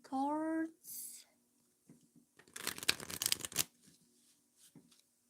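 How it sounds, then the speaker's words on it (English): Tarot cards being shuffled by hand at a reading, with a short burst of riffling and a longer crisp flurry of card slaps in the middle, close and fairly quiet, after a brief sung tone at the start. "So I'm going to shuffle cards"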